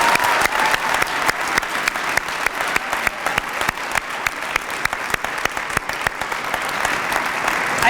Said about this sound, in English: give them another round of applause and thank them